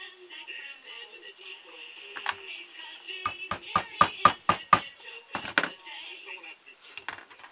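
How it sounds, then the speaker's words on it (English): A run of sharp metallic taps as a hammer strikes a center punch marking wood, about five evenly spaced strikes close up, followed by a few more scattered knocks, with a faint background hum. "we're going to mark our center, then we're going to take a punch."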